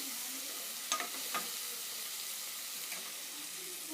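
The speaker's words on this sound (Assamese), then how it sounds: "এতিয়া বিলাহী ভালকৈ গলিবলৈ দিম।" Tomatoes fry in a pan with a constant broad sizzle, close and steady, broken by a few brief stirring scrapes and no talk.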